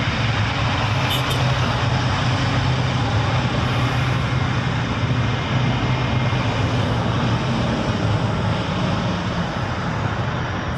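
A tanker aircraft passes as a loud, continuous engine roar with a deep rumble, filling the whole stretch at constant strength with no talking.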